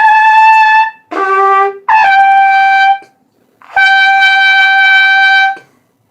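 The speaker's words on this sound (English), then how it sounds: "the hallmark of somebody who is not doing the tongue arch properly is a very forced and strained sound" Trumpet high notes played with a roll-in embouchure but no tongue arch, giving a forced, strained tone: four sustained, bright, harmonic-rich notes with brief gaps between them, loud and close, with no talking.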